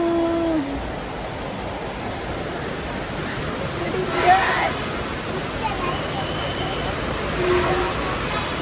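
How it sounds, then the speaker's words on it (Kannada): Dense, steady roar of heavy rain pouring down at Kateel Durga Parameshwari Temple, loud and unbroken, with faint voices barely audible underneath. "ಜೋರು ಮಳೆ ಬಂತು."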